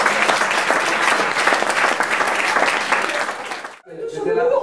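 A crowd claps loudly and steadily at an improv theatre show, then the applause breaks off and a voice starts speaking.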